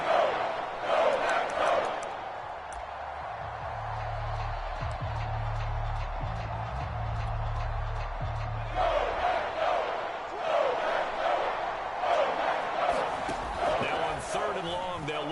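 Stadium crowd noise from an American football video game on PS4, a broad continuous roar that swells at the start and again near the end, with a low steady hum in the middle and a commentator's voice over it.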